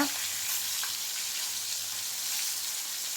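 Dried ghee fish sizzling in hot oil with roasted coconut on a low simmer, a steady close frying hiss that runs unbroken and alone.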